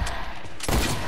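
Rapid gunfire from a Fortnite match crackles in a dense, loud burst of overlapping shots, with a sharper report landing about halfway through the second-long stretch.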